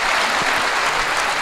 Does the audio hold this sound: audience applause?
yes